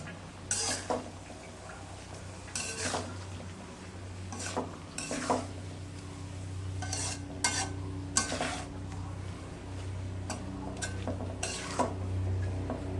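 Beef tripe cooks in a pot while a utensil stirs it, scraping in repeated strokes every second or two over a low steady bubbling hum, close and fairly quiet.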